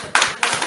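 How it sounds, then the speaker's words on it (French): A church audience claps in praise, two brief bursts of hand claps in quick succession, fairly close and moderately loud. "Applaudissons pour le Seigneur"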